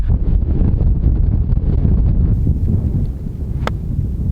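Strong wind buffeting a microphone on a golf course, a loud continuous low rumble with gusty roughness that eases slightly partway through, with a brief sharp click near the end.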